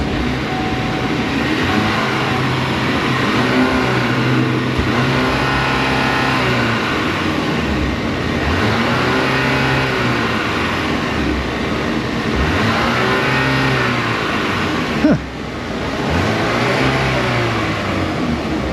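Running Cadillac engine with a suspected loose timing chain, a loud continuous mechanical drone with a repeating cyclic rattle and whirr throughout, plus a brief clunk near the end.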